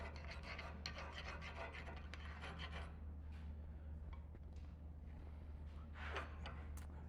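A hand file rasps back and forth to round off the end of a metal smithing workpiece at a blacksmithing conference, in steady close strokes that pause briefly and resume over a constant low hum.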